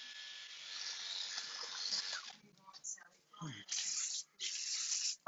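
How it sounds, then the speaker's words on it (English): A spray bottle mists a standard poodle on a grooming table. After some background noise, two short bursts of airy hiss follow close together near the end. "Let me spray it down."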